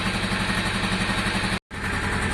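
A Honda Deauville motorcycle engine idles after a carburettor clean, a smooth, even low throb close by, cut by one very brief gap of silence partway through.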